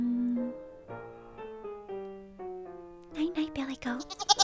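A baby goat bleats in short, wavering calls near the end, after a stretch of soft, stepped melodic humming or singing close by.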